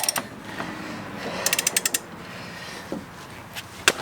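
A hand ratchet turning a ball joint removal tool on a vehicle's suspension, giving a quick burst of rapid clicks mid-way and a few isolated clicks and knocks over a constant low background hum.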